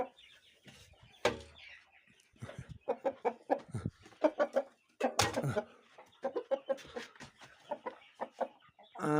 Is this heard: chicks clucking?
yes